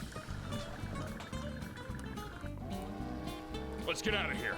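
A boat engine runs after boarding a boat in a mobile FPS game. It gives a steady, throbbing low hum under constant talk, with gunfire and game effects mixed in.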